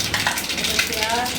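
Asafoetida, cardamom and cloves hit hot oil for Kathiyawadi kadhi, giving a brief, close, steady hiss of sizzling frying.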